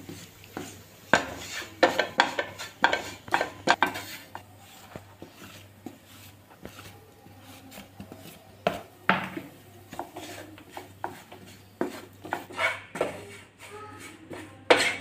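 Turmeric, coriander and chilli powder stirred in a pan for a tuna fish curry, heard as repeated uneven scrapes and metallic clinks of a spoon against the pan, close, with short pauses between bursts.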